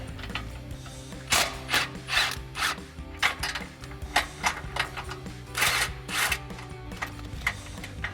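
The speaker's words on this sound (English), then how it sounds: "And then we'll grab our 18mm socket" An 18mm socket on a ratchet backs nuts off an aluminum front bumper on a Jeep Gladiator JT, giving repeated quick clicking bursts in irregular spurts, fairly close and moderately quiet.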